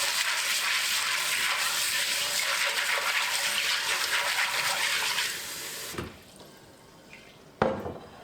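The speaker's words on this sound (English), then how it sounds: "fill your pot with water to cover the beans" Water runs steadily from a tap into a pot of beans for several seconds, then shuts off, followed by a couple of clunks of the pot being moved.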